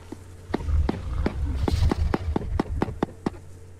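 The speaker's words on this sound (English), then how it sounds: "That was the broadcast." A Kelenken broadcast call from a Path of Titans mod, heard as a series of about a dozen sharp, loud clicks or knocks spaced fairly evenly over a low rumbling bed.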